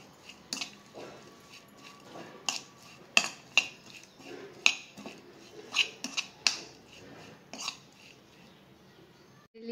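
A spoon works mayonnaise, cheese and pepper powder together in a bowl for a sandwich spread, with repeated sharp clinks and scrapes coming in an irregular rhythm, close and fairly loud, against a quiet background.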